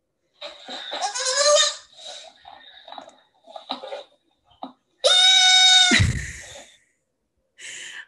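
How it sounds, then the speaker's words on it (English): Baby goats screaming in bursts: two long, loud, wavering human-like bleats with quieter snorts and breathy sounds between them and a short final cry, played back close. "Listen to this. Baby goats screaming."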